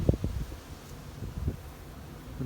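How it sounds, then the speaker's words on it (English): Wind blowing across an open pasture where bees are kept, a steady low rumbling rush with a few gusty buffets at the start and around the middle, no voices. "you can hear the wind, 40 click wind"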